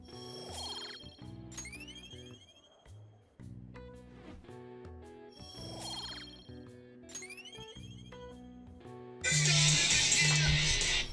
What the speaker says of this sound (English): Apologies for my phone going off.